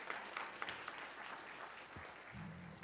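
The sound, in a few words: applause at a board of education meeting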